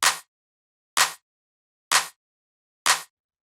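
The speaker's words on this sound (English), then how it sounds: "the last percussion sound that we have here is this clap" A hard-hitting clap sample from a funky deep house beat strikes four times alone, evenly spaced about a second apart, each a sharp bright burst that dies away quickly.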